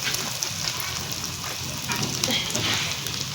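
Chopped onions and turnip fry in a pan for a turnip and pea curry, making a steady, close hiss and crackle of sizzling oil.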